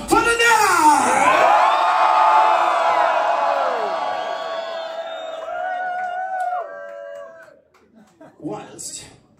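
A concert crowd at a symphonic pirate metal show in the UK lets out a loud, sustained scream and cheer that swells, holds, then fades into scattered whoops near the end.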